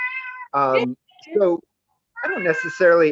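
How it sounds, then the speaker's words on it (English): A cat meows repeatedly in the background of a video call, its loud drawn-out cries alternating with someone talking. "I apologize for the cat in the background."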